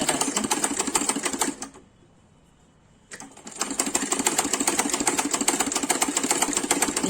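Sewing machine stitching fabric in a home tailoring job, a fast steady mechanical whir that runs, stops for about a second and a half, then resumes loud and close.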